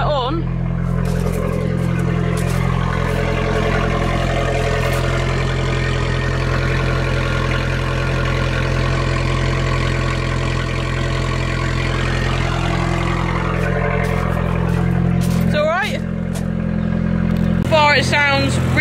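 An Abarth with a newly fitted sports cat idles after a cold start, a loud, steady, low rumbling drone that holds for the whole stretch, with brief faint sounds near the end.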